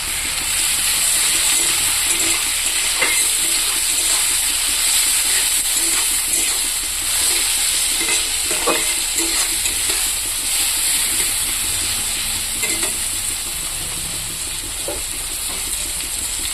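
Chopped tomatoes frying in a pan with browned onions, a steady loud sizzle and hiss running throughout with occasional stirring scrapes, close up and without speech.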